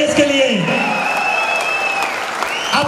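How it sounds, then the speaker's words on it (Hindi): Loud, sustained applause from a crowd, steady throughout with continuous clapping and some voices mixed in. "जोरदार तालियां होनी चाहिए इसके लिए।"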